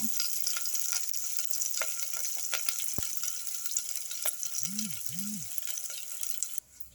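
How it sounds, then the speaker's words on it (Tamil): Small onions, garlic and curry leaves frying in oil, giving a constant hissing sizzle close by, with a few light clicks and scrapes and a brief squeaky sound near the end. "அந்த சின்ன வெங்காயம் பூண்டு கருவேப்பிலையெல்லாம் நல்லா வணக்கலாம் லைட் ப்ரௌன் வர இருக்கும் அப்படியே எண்ணெயிலே வேகட்டும்"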